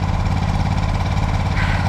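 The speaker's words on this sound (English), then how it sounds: "Garden tractor's in action, so Dirk's gonna go ahead and handle that" A garden tractor engine runs steadily close by, its loud, even mid-pitched drone and faint knocking continuing without a break.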